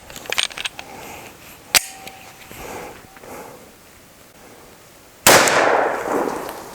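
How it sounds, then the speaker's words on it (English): Glock 29 pistol firing 10mm Underwood 135 grain rounds outdoors, one sharp, loud crack followed a few seconds later by a heavier broadband blast that slowly decays. "Let's start out with the Glock 29."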